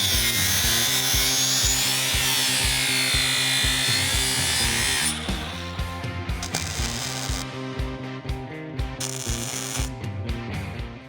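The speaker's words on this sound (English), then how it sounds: "I'm going to put a chamfer on all the edges where there's going to be a butt weld" A grinder chamfers the edges of steel plate for butt welds on a restored square body tow truck, a loud high whine with rhythmic chattering pulses that eases and becomes more intermittent toward the end.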